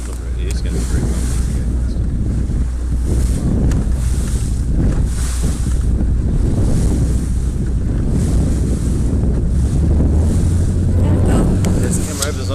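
A family boat rides over bumpy sea waves, with steady engine rumble, splashing water and heavy wind buffeting the microphone throughout, and voices faintly mixed in.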